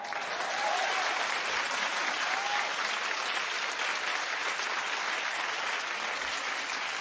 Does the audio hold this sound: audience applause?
yes